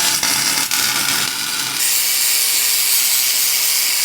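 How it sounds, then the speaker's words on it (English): A welding bead is laid on a Range Rover camper build, a dense crackling hiss that shifts to a steadier, brighter buzz partway through, heard up close with no talking. "So that should be all the welding we need to do for the shave"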